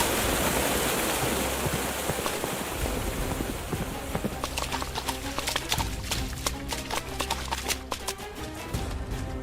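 Horse hooves galloping in the medieval combat game Hellsplit Arena, a loud rapid clip-clop rhythm over a dense noisy mix, with a brief neigh and steady thudding throughout.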